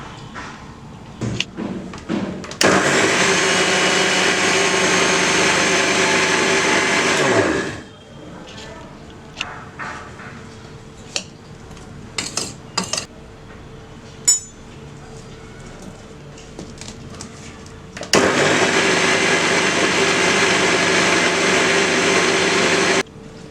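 Mixer grinder grinding sugar into caster sugar, two loud bursts of harsh whirring motor roar several seconds long, separated by quieter clatter and handling noises, with talking between them.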